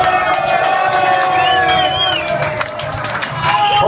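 Live club audience at a small Bologna music venue cheering, whooping and applauding for a helper, a dense steady crowd roar filling the space with shouts and whistles rising over it.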